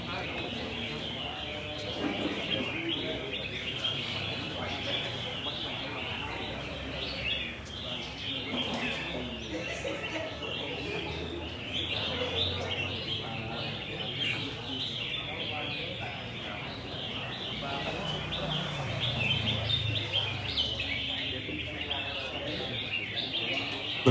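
Caged songbirds chirp and call continuously at a bird singing competition, with dense, bright twittering over crowd noise while an announcer talks through the whole stretch.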